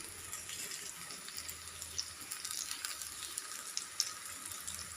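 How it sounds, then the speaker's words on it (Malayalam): Banana pieces fry in ghee with a soft, steady sizzle and scattered small crackling pops, faint and close, with no voices. "2 സൈഡും നന്നായിട്ടൊന്ന് ഫ്രൈ ചെയ്തെടുക്കണം കേട്ടോ. ഒരു ഗോൾഡൻ ബ്രൗൺ കളർ ആവുന്നത് വരെ നമുക്കതൊന്ന് ഫ്രൈ ചെയ്തെടുത്തിട്ട് വരാം."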